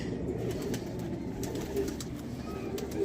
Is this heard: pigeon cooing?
yes